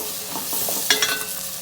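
Chopped tomato is stirred and mashed in a frying pan under a steady sizzle, with a couple of soft pressing strokes and then two sharper scrapes close together; brief and without talk.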